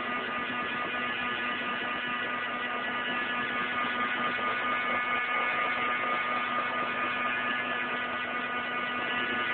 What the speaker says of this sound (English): So just keep your heat gun, your heat tool moving.